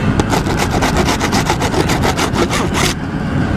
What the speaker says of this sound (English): I can even scrape some of it.